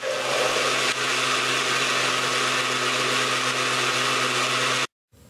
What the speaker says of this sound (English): Blend for 1 minute.